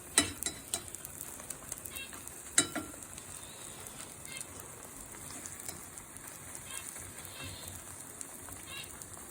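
Beaten eggs for an omelette sizzle steadily in a hot pan, a continuous fine crackle with a few sharper pops and clicks near the start, heard fairly quietly without talk.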